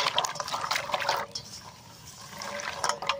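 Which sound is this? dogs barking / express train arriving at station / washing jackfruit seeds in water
washing jackfruit seeds in water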